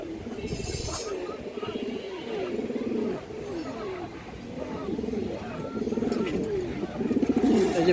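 Racing pigeons coo in a loft, overlapping low throaty calls repeating in rolling phrases close by, several birds at once, with faint rustling.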